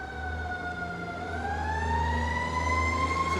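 A fire tanker truck responds with its siren wailing, the steady tone slowly rising in pitch as the truck approaches, loud over a low engine rumble outdoors.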